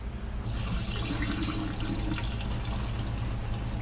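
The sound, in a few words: pouring water to rinse rice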